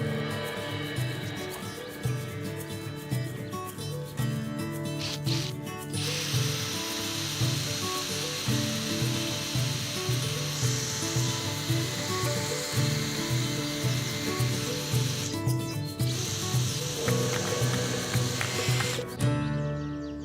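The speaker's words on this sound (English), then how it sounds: "I've basically got to take the rust off with a wire wheel back to the bare metal" A wire wheel grinds rust off painted metal, a loud hissing, sizzling whir with a pulsing motor drone, cutting in and out as the wheel touches the surface, close by with no talking.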